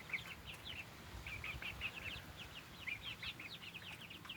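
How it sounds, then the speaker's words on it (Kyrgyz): Kyrgyz grey chickens, a breed developed in the Soviet era, give repeated short clucks and calls at moderate distance over a soft, constant outdoor background. "Кыргыз чаар тоогу."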